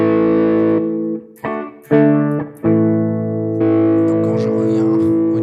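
An electric guitar runs through a Headrush pedalboard with overdrive and reverb, playing sustained distorted chords in several separate strums with short gaps between them, each ringing out with a long tail.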